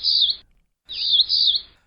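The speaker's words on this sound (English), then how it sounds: "The cerulean warbler," A cerulean warbler sings in two bursts of high, thin buzzy notes, the second phrase longer, clear and alone against a quiet background.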